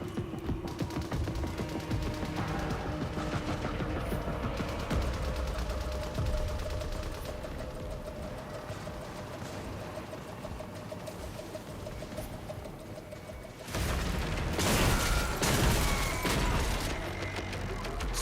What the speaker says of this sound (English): so cool that it actually makes like the original gunshot sound effect from the first game